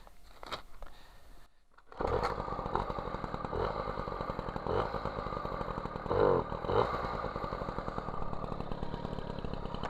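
An MBK 51 Magnum moped with a 15 PHBG carburettor fires up after a couple of quiet seconds and settles into a steady, buzzing two-stroke idle close by, with a few brief revs along the way.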